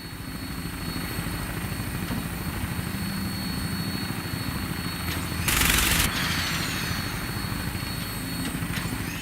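A helicopter-style aircraft in flight over the Commonwealth in Fallout 4 gives a steady, loud rotor drone throughout, with a brief harsh burst near the middle.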